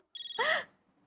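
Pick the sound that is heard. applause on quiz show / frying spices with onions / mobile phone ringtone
mobile phone ringtone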